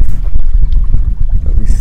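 Wind blows hard across the microphone on the coast in a loud, gusty low roar with uneven buffeting throughout, and no voices.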